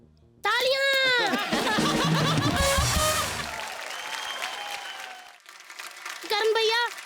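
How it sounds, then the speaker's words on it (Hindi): A studio audience at a comedy show claps and laughs as a performer bickers on stage. A burst of applause rises briefly amid loud, animated talk and chuckling, then fades while the voices carry on. "तालियां।"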